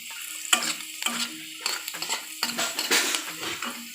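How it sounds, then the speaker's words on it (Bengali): Onions for a mustard fish curry fry in a pan, sizzling under repeated scrapes and clinks of a spoon being stirred against the metal, close up, with no voices. "পেঁয়াজটা লাল করে ভেজে নিব"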